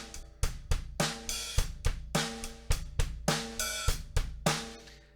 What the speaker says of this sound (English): That right there is that open hi hat sound.